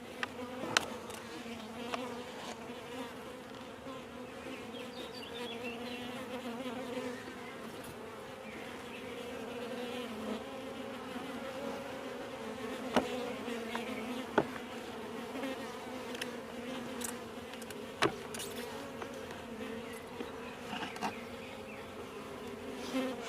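Honeybees buzz in a steady, dense hum throughout an open nucleus hive inspection, close and continuous, with a few sharper bee passes near the microphone and no talking.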